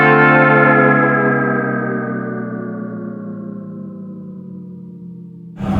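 A sustained, heavily effected guitar chord through a DigiTech Whammy pedal drifts gradually in pitch while washing in reverb, slowly fading, then a fresh loud attack cuts in at the very end.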